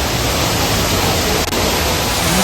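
A waterfall at Anayadikuthu in Kerala rushes in a steady, unbroken broadband roar that stays loud and even throughout, with no other sounds over it.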